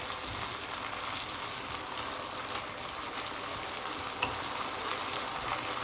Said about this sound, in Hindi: अब हम इसमें डालेंगे शिमला मिर्च। इसको हम थोड़ा सा सौते करेंगे।